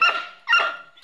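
A dog lets out two sharp, close barks about half a second apart, each with a slight whining edge, and another starts just as the sound ends.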